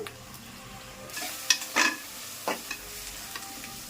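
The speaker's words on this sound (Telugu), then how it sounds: "దీంట్లోనే సాజారు కొద్దిగా కొంచెం పచ్చిమిరపకాయలు, ఉల్లిపాయలు కూడా వేయించుకోవాలి." Green chillies and onions fry with ginger garlic paste in a pan for an egg biryani, a soft steady sizzle broken by a few sharp stirring scrapes, close and without talk.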